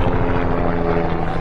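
A medevac helicopter passes overhead outdoors, its engine and rotor roar loud and steady throughout the short moment, with no talk.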